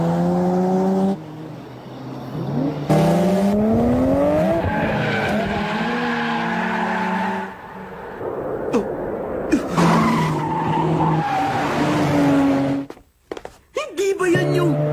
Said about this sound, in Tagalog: Teka, may kotse pa parating, oh.